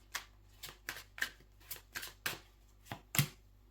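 Oracle cards are shuffled in a rhythmic series of about ten crisp, brief riffles, evenly spaced and close, standing alone without any talking.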